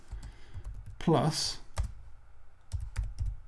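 Python code is typed on a computer keyboard in quiet bursts of clicky keystrokes, with a spoken word breaking in partway through.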